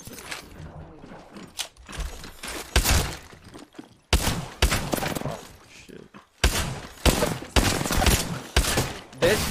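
Rapid bursts of gunfire from a weapon in Apex Legends, loud and close, coming in several clusters separated by short gaps, with an excited voice talking over the shooting.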